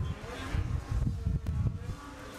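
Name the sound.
race car spinning its wheels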